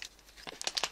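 A plastic bag of hamster food is torn open by hand, giving a second of close, fairly quiet crinkling and ripping that grows sharper toward the end.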